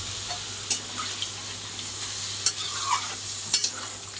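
Braised meat sizzles in a pan with broth just added, a steady frying hiss broken by a few sharp clicks of stirring.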